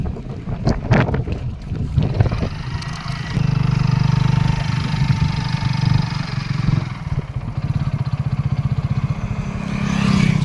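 A motorbike travels past farmland on a windy ride, its engine droning steadily beneath buffeting wind noise, with a revving rise near the end.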